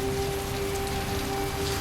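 Steady rain falls on an old street in Tainan, Taiwan, a continuous even hiss of drops on hard surfaces with a faint background hum and no voices.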